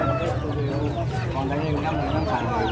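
Chickens and other poultry at a live bird market in Purworejo, with dense, overlapping clucks and squawks from many birds close by, loud and continuous, with some crowd murmur underneath.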